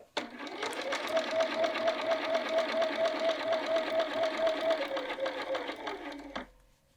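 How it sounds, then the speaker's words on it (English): Sewing machine stitching steadily along a basted line while inserting a welt pocket, a fast close mechanical whir that starts abruptly, runs evenly for about six seconds, then stops, with no talk. "we're just going to stitch following the line we basted"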